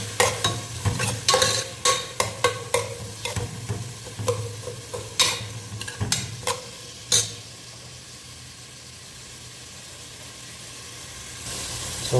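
Dried red chillies frying and stirred in a pan with onion for a milk fish curry, a run of rhythmic scraping strokes over a hiss, then the stirring stops and a steady sizzle continues alone.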